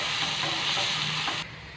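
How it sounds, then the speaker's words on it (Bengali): Carrots fry in hot oil in a pan with a steady, close hiss and sizzle that cuts off abruptly toward the end, leaving only a faint background. "গাজরটাও আমি অল্প ভেজে নেব।"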